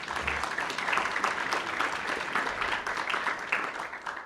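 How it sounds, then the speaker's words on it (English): An audience at a coaching education talk applauds to welcome a speaker named Keely; the clapping is steady and fairly dense and lasts the whole few seconds without any talk over it. "Can we give a round of applause for Keely?"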